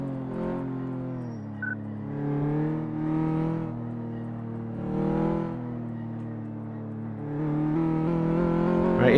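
A car in the Car Mechanic Simulator 2014 video game drives over bumps on a suspension test, its engine a steady droning hum that swells and dips in waves, with no talk.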